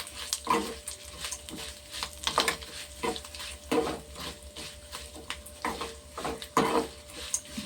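Spices being stirred into a homemade elakkaya (Indian pickle), a soft irregular scraping and mixing close by, with repeated bursts of stirring over a steady low background hum and no talk.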